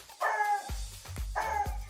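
A female dog barks twice, two short, sharp, close barks about a second apart with a brief yip-like onset, heard on their own without speech.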